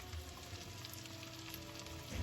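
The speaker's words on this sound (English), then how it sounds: "I can hear them sizzling slowly" Food sizzles slowly in a pan on a home stove while cornbread dressing is prepared, a soft, steady crackle with faint popping and no talk over it.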